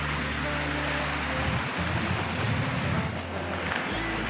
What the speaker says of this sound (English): Something very relaxing about waterfalls, and water.